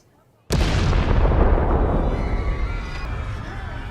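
Tanks on a bridge explode in Star Wars: Andor: after a half-second of near silence, a sudden, loud, close blast breaks out and fades into a long, heavy roaring rumble of fire and debris.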